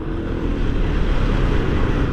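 Steady low road rumble of congested traffic, engines idling and creeping along in a jam, a dense continuous drone close by with no talking over it.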